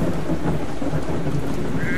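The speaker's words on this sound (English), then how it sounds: "Oh no, it's raining!" Steady, dense rain in a video game pours down with a low rumbling undertone, continuous and fairly loud with no speech.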